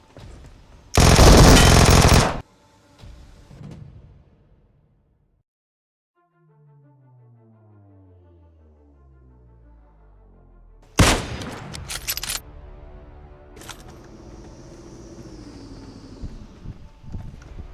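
Gunfire in the mobile battle-royale game PUBG Mobile: a loud burst of automatic fire, a quiet stretch, then another cluster of sharp shots and rattling bursts close by, with game effects following.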